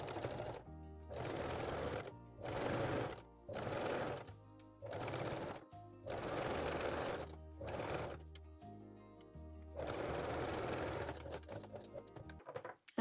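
A sewing machine stitches elastic onto a bra in a series of steady whirring runs, each a second or two long with short pauses between, close and loud, ending in a few clicks and handling noises.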